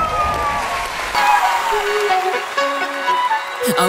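Audience applause at a Vietnamese rap competition show, a steady wash of clapping from a crowd with musical tones and some voices mixed in.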